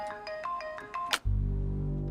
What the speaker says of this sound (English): John Brennan receives a weird phone call